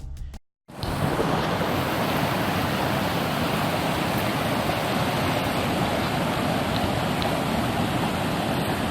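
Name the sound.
waterfall on mountain hike at Canadice Lake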